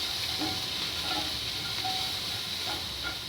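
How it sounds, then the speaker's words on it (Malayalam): Chopped ginger, green chili and curry leaves sauté in hot oil for a fish curry, giving a steady, close, even sizzle and hiss with no voices. "ചോപ്പ് ചെയ്ത ഇഞ്ചി, പിന്നെ ചോപ്പ് ചെയ്ത പച്ചമുളക്, കറിവേപ്പില, ഇതെല്ലാം കൂടി ഇട്ടിട്ട് ഒന്നുകൂടി വഴറ്റാം"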